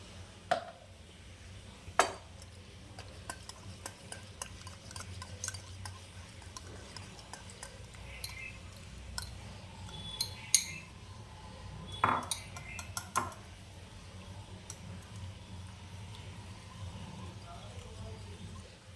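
A spoon stirs Amul milk to mix it, with light scattered clinks against the vessel at irregular moments, several sharper taps standing out over a quiet background.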